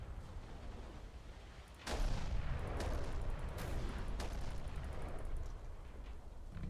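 Torpedo strikes and explosions from a ShipCrafter naval battle game with the Yamato and Bismarck, a sudden heavy boom followed by rumbling blasts and sharp crackling impacts that continue to roll on.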